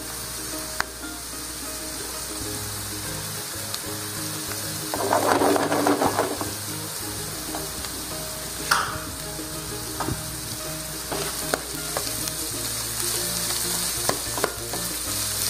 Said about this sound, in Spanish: Y ahora agregaré los cebollines picados y moveremos muy bien